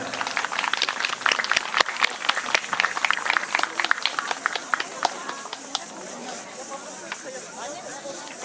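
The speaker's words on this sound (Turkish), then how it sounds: "Alkışlarınız bilen." Audience applause at a Sabantuy village festival in Eskişehir, a dense patter of many clapping hands that holds steady and then thins, with voices murmuring through it.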